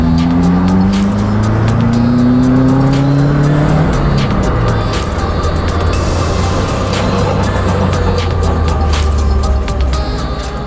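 A Caterham Roadsport on track at Circuit Zandvoort, its engine loud and close throughout with rising and falling harmonic sweeps as it revs through gears, plus a brief tire-squeal-like burst midway.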